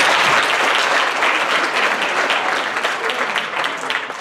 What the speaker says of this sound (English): I want to pause and get a round of applause for our presenters and everyone that put this together